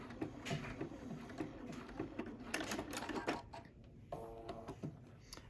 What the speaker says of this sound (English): let's go ahead and just sew from dot to dot. And one more stitch.